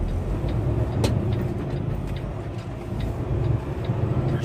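Cars on a Texas road pass in a steady, fairly loud rush of broadband road noise, with a brief sharper swell near the one-second mark and no voices.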